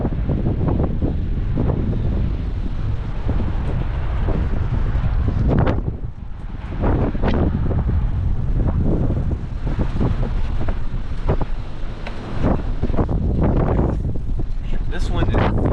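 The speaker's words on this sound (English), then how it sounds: "This wind is fierce right now." Strong gusts during a windstorm in the Ohio Valley roar loudly and continuously against the microphone, swelling and easing, with a person's voice speaking at times under the buffeting.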